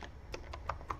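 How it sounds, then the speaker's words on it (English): A computer keyboard tapped with a handful of distinct, close keystrokes at an uneven pace, heard alone over a faint low hum. "I'm typing it in right now."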